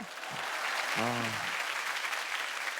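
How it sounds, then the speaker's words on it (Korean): Studio audience applause on a KBS music talk show: a dense, steady wash of clapping that holds for nearly three seconds, with a brief voice rising over it near the middle. "박수라도 좀 쳐주라."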